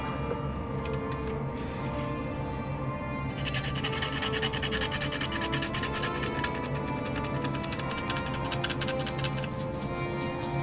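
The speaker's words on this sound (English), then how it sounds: "And what I do is I brush it off, and that kind of smooths it out." Brushing the deck of a 1:426 Revell U.S.S. Arizona plastic model ship, a steady scratchy rubbing that runs throughout and grows denser and brisker after the first few seconds, close and alone with no talk.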